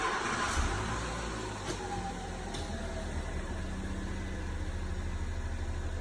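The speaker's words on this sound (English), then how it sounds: "Start the car up." A Mitsubishi Delica's engine starts and settles into a low, steady idle, heard faintly and alone with no talking.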